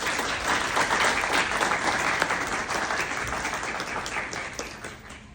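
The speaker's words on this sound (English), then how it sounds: "round of applause" Sustained audience applause at a university leadership series talk, a dense steady patter of many hands clapping throughout, fairly close and even in loudness.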